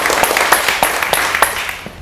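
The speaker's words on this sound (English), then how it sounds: "A big round of applause for Bao." A small audience at a real estate investors' meeting gives a round of applause, loud and close, with distinct individual claps in an uneven rhythm over about two seconds.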